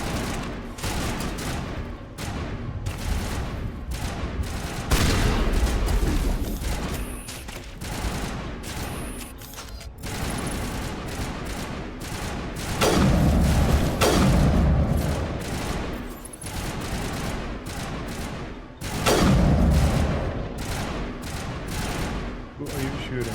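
Gunfire in the video game Mass Effect, repeated bursts of shots and booming impacts that swell and fade in waves throughout a long firefight, with voices talking over parts of it.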